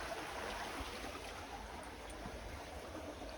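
A creek flows in a steady, soft, continuous wash of water at a prospecting site, faint and unbroken with no voices.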